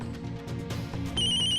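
A telephone rings in a Hindi TV serial household scene, a steady electronic ringing tone that sharpens and grows louder near the end of the short stretch, heard over a busy background hum with no speech.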